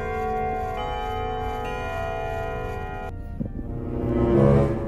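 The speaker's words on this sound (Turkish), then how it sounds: "Saat sesi geldi." The Titan Clock Man in a Skibidi Toilet video game gives off a loud, steady bell-like clock tone with sustained ringing harmonics that cuts off partway and gives way to a noisier rising swell.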